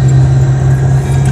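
Car interior while driving, with a steady low engine and road drone holding at a constant, fairly loud level and no talk.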